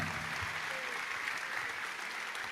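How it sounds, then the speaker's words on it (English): A crowd claps steadily for students at a commitment ceremony, dense and even throughout with no talk over it. "A round of applause for those students."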